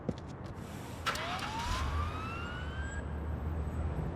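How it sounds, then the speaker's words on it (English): A video game ambulance siren starts up and rises into a steady wail, with engine rumble beneath and no talking. "we're going to go ahead and go lights and sirens"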